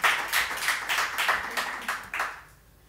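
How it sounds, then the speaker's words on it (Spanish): An audience at an intimate live music session gives a short, fairly quiet round of applause, a handful of distinct clapping bursts that thin out and fade within a few seconds. "Un aplauso gracias. Para ese tío."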